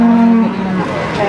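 A cow lets out a low, drawn-out moo close by at a cattle market in Warujayeng, Indonesia, with background noise and faint voices around it.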